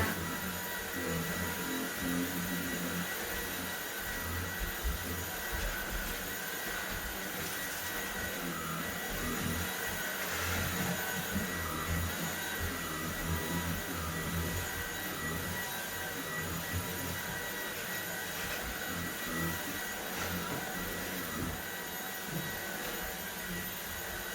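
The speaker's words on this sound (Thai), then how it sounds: "ทำงานบ้านนะทุกคนเครื่องดูดฝุ่นนี่ดีมากเลย" Vacuum cleaner cleaning a sofa, running as a steady loud roaring hum with small fluctuations as the nozzle moves over the cushions, continuous throughout.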